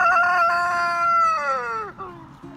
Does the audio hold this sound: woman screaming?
no